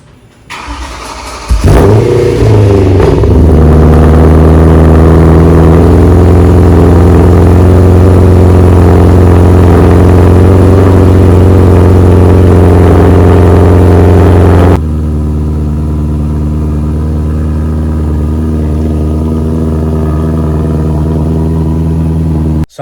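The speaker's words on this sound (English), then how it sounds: "It's been so long since I've heard that V8 sound, supercharger whine." A BMW M3 V8 cranks and fires up after a battery change, then settles into a loud, steady idle with a supercharger whine, the tone dropping slightly partway through as the revs ease down.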